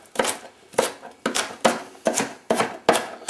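Knife chopping onions on a cutting board, six sharp, evenly spaced cuts about half a second apart, close and crisp with no talking.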